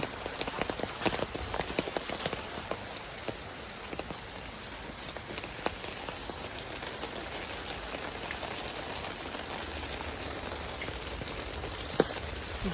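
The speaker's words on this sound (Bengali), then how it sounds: "আবার বৃষ্টি পড়ছে, আর আমি যাচ্ছি হলো বাজারে" Steady rain patters on surfaces in Kolkata during mixed sun and rain, an even dense hiss with scattered close drop hits and no talk throughout.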